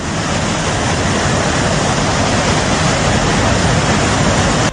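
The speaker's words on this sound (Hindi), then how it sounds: "मटमैला पानी और नदी की ये दहाड़ किसी के भी रूह में सिहरन पैदा करने के लिए काफी है" A muddy flooding river roars in Chamoli, a loud, dense, continuous rush of churning water that holds steady throughout with no voices.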